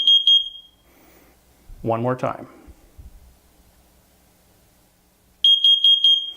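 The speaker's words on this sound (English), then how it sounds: "You'll hear that the CO alarm has a faster beep" A shrill carbon monoxide alarm being tested chirps in quick bursts at the start, someone speaks briefly, then after a silence a rapid series of piercing beeps resumes.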